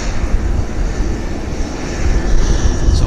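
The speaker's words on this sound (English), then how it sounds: "A330 on the other side, gliding into runway 26 right for arrival." Airbus A330 jet gliding in to land on runway 26 right at Vancouver airport, a loud steady broadband engine roar and rumble heard at a distance, swelling slightly toward the end, no talking.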